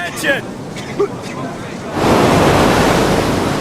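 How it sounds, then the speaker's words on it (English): Big ocean surf breaking during a military selection course's surf passage, a loud broadband wash of crashing waves that swells in around the two-second mark and rolls on steadily, with wind noise and faint voices early on. "Most of the class have never seen waves this big."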